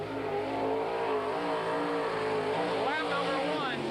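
Sprint cars roar around the half-mile Impact Speedway in Oregon, Wisconsin, a loud continuous engine drone with rising revs near the end, while a track announcer talks over the racing.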